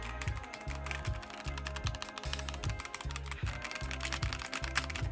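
Steady, continuous clatter of keys on an inexpensive aftermarket computer keyboard bought for a Lenovo setup, with close, dense keystrokes alone over a low rhythmic background pulse.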